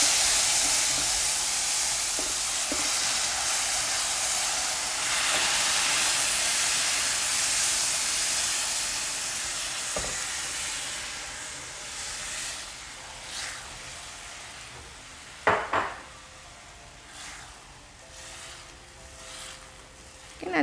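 Tomato broth poured into a pan of toasted rice, giving a steady broad hiss of steam and sizzle that slowly fades, with a few sharp clinks and splashes near the end.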